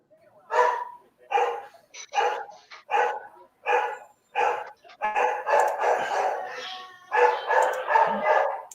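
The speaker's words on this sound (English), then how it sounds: "Dog." A dog barks in a run of sharp, evenly spaced barks, then a denser burst of yips and whimpery barks, close and loud, with a voice mixed in.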